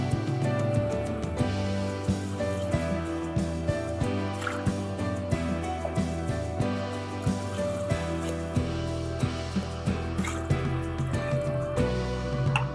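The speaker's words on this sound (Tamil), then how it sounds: "இப்போ தண்ணி ஊற்றியாச்சு." Water is poured onto rice in a pressure cooker, a continuous splashing fill with irregular clinks and knocks, close and moderately loud, with no talk.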